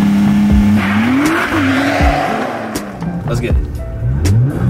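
A Nissan GT-R revs and accelerates up close, its engine note climbing, dropping and climbing again in loud sweeps, with someone speaking briefly over the noise.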